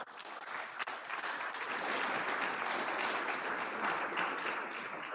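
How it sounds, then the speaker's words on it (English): A round of applause at a city council meeting, a modest room of people clapping steadily, building after a brief start and continuing evenly at moderate distance. "A round of applause."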